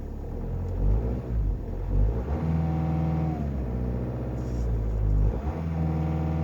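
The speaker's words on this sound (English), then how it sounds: "This is a Jetta TDI 2014 diesel." A 2014 Volkswagen Jetta TDI diesel idles steadily after a cold start in about 15 to 19 degree blizzard weather, with a deep, rumbling drone and a constant low clatter that stays close and even throughout.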